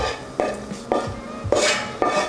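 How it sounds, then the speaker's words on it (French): Spoon stirring a minced meat and onion mixture into mashed potato, five or six rhythmic scraping clinks against the bowl with soft wet mashing between, close and clear. "on va venir rajouter notre préparation à base de viande hachée et d'oignons qu'on va incorporer dans la purée"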